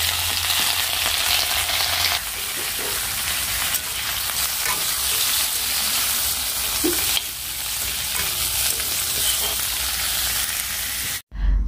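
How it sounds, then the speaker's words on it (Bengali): Onions, panch phoron and a dried red chilli frying in oil in a wok, a loud continuous sizzle with stirring scrapes throughout, cutting off abruptly at the end. "কড়াই দিয়েছি পেঁয়াজ আর পাঁচফোড়ন আর একটা শুকনো লঙ্কা দিয়ে"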